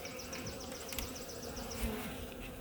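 Honeybees buzzing steadily around hive frames during spring hive care, a continuous close insect hum with wingbeat whines drifting in and out, no talking.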